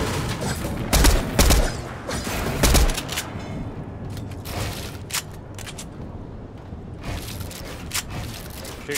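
Rapid bursts of gunfire from a Fortnite battle royale match, with several loud volleys early on and sparser shots and clattering game effects afterward, no talking.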